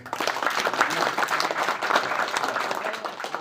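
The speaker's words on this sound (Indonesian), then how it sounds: "Tepuk tangan buat Bung Apip." An audience at a Pemuda Pancasila youth training event in Banyumas gives a round of applause, dense and continuous clapping with no talk over it.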